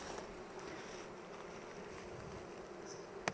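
Honeybees at an opened spring hive being smoked, a dense steady buzzing swarm close by with no talk, holding even for the whole stretch until a brief sharp knock at the very end.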